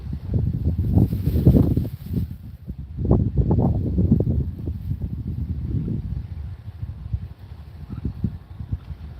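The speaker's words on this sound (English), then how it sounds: "Super windy." Gusty wind buffets the microphone in low, uneven rumbles, rising and falling in strength over the whole stretch.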